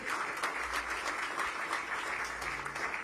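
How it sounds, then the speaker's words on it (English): Audience at an Australia–India economic engagement launch clapping steadily, a dense, even wash of many hands lasting about three seconds, loud and continuous. "We should give him a clap"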